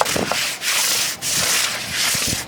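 Paving stones are scrubbed with Techniseal cleaner, giving loud, rhythmic rasping back-and-forth strokes, about four in quick succession, close by with no talking.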